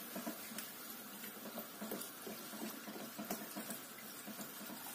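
Water is poured into a besan and yogurt mixture for kadhi, a soft, steady splashing trickle that is faint and continuous, with no voices.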